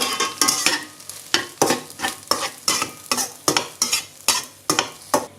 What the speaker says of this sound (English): Just fry it until dry, and then continue add some rice.